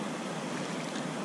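Ocean surf washes up over the beach during razor clam digging at a summer minus tide on the Oregon coast, a brief continuous broadband rush of water, close and steady.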